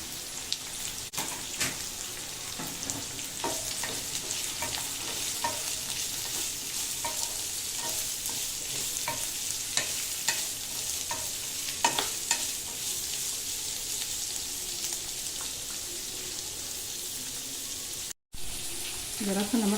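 Sliced onion and capsicum stir-frying in a pan, a continuous close sizzle with regular scraping strokes of a spatula throughout, briefly cut off near the end.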